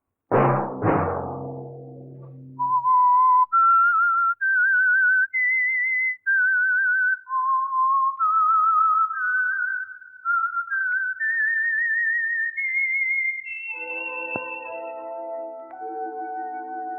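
Whistled theme signal of the old-time radio mystery show The Whistler: after a brief opening sound, a lone clear whistled melody climbs and falls through sustained notes, ending as a soft orchestral chord enters underneath.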